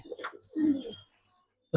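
A few low coos from Giribaz coloring pigeons, one longer rolling call in the middle and a brief burst at the end.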